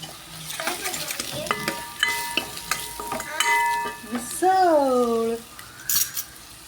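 Onion masala frying in a pan while being stirred, with sizzling, metal utensil scrapes and clinks, and a few louder tones and a sweeping sound partway through.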